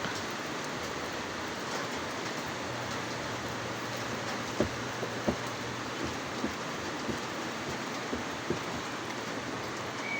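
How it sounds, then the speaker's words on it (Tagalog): Steady rain hisses continuously, with occasional sharper drops tapping nearby. "umulan na po siya"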